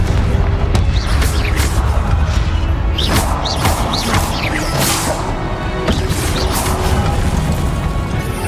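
Confringo spell blasts in Hogwarts Legacy, loud fiery explosive booms and crashing impacts with swishing whooshes, repeated over a dense, noisy combat soundscape.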